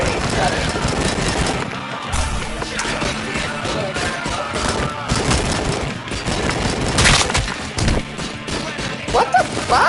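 Gunfire in Robocop Rogue City, dense bursts of shots and crashes filling the whole stretch, loud and close, mixed with other game noise and voices.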